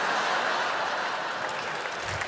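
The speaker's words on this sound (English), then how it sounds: "You'll watch it back and you'll hate yourself for clapping at that." A live stand-up comedy audience claps in a steady, even wash of applause that thins slightly toward the end, heard from within the crowd.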